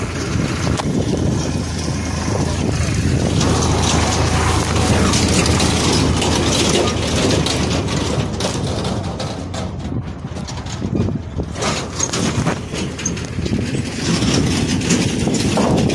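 Continuous roadside traffic noise with motorcycles and cars rumbling past and wind buffeting the microphone, loud and steady, no voices.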